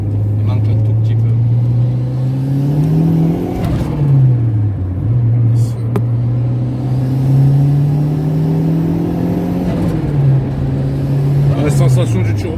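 Honda Civic turbo making 300 horsepower, heard from inside as the engine hums and rises through several revs and gear changes, a steady droning note under speech.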